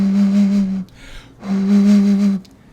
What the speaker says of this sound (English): You blow over the top of the bottle and you get a nice round sound like this.